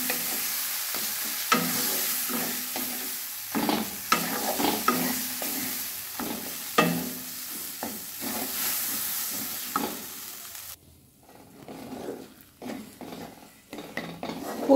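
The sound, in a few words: stir-frying spiced burger filling in a pan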